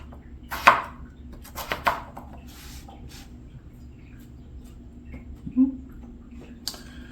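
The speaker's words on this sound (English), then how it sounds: "You're gonna cut the potato into bite-sized chunks." A knife cuts a yellow potato into bite-sized chunks on a board, a few sharp, close chops spaced irregularly with quiet gaps between them.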